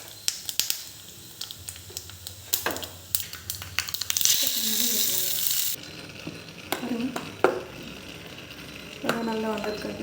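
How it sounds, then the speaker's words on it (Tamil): Mustard seeds and cumin sizzle in hot oil in a kadai, bursts of crackling and popping with a louder hiss in the middle, stirring clinks, and someone talking in between. "கொஞ்சம் கடாயில் கொஞ்சம் எண்ணெய் ஊற்றி சீரகம் போட்டுக்கலாம்"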